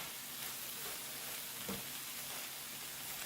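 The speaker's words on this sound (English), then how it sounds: "A nice little toss and stir." Sweet potato pieces frying in a pan, tossed and stirred once: a steady close hiss of oil with a single soft scrape of the spatula midway through.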